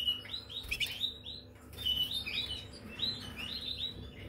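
Small birds chirp in quick bright bursts, several short calls repeating across the whole stretch over a low background rumble, with no talking.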